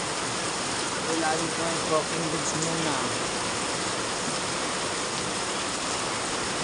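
Heavy rain pouring during flooding, a dense constant hiss of downpour close by, with a voice talking over it.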